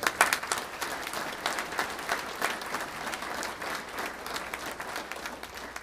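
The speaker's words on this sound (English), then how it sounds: "join me in giving both of them a round of applause" An audience at a 20th anniversary gala claps together in a dense, sustained round. Crisp individual claps stand out at the start before the sound settles into an even wash, fairly distant and moderately loud.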